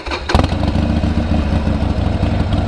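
A 2020 Harley-Davidson Iron 1200 cranks briefly, then fires up loud and close, settling into a lumpy, thumping idle with some mechanical clatter.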